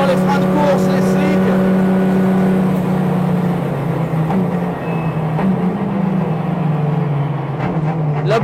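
Cabin of a race car with an automatic gearbox, slicks and racing brakes, a loud, constant engine drone with a steady low hum and shifting pitch, heard from inside the car.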